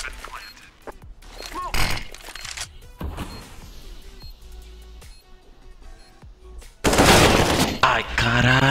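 Gunfire in the Counter-Strike video game, with sharp broadband bursts around two seconds and a loud sustained volley near the end, over a busy background of game effects.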